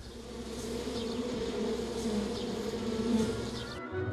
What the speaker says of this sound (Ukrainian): От чуєте, який гул там всередині?